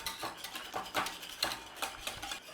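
A whisk beating milk into a thickening sauce for a fish pie, quick rhythmic metallic scrapes and taps against the pan, close and moderately quiet, with no speech.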